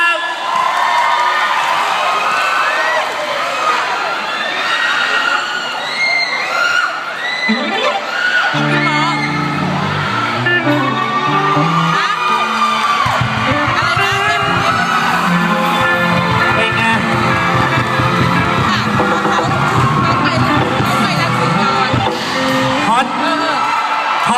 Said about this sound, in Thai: ขอเสียงปรบมือหน่อยเร็วครับ